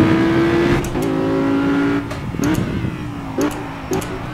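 Car engine in the racing video game Project Cars at Laguna Seca, revving and shifting with rising and falling pitch, brief gaps at gear changes, loud and up front without talk.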